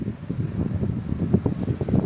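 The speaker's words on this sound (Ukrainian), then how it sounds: "раз такий вітер сильний" Strong outdoor wind buffets the microphone in a low, uneven rumble with gusty surges, filling the whole moment without any voices.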